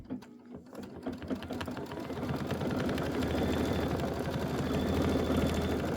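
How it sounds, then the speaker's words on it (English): A sewing machine quilts a block, starting with a few slow stitches before settling into a steady, fast, continuous whir of rapid needle strokes, close and alone. "This is 2 minutes of quilting."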